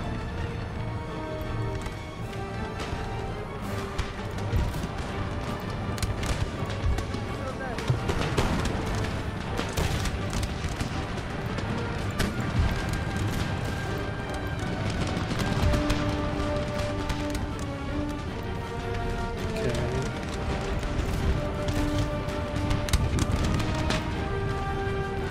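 Cannon canister shot and musket volleys crackle through a large Empire: Total War battle with Ottoman camel gunners, a steady dense din of gunfire and booms under soundtrack music, with a voice talking over it.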